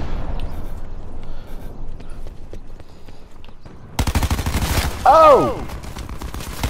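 Shotgun fire in Black Ops 4: a sudden loud burst of close gunfire in the second half, with a voice shouting over the shots.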